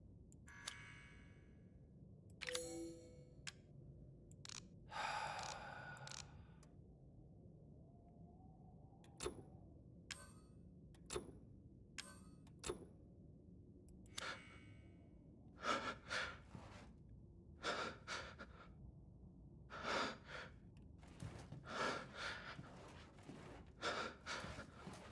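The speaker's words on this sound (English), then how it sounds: "his breathing is driving me insane" In the Resident Evil Village video game, a character breathes heavily, with repeated gasps and harsh breaths coming in irregular bursts over a quiet, low game ambience.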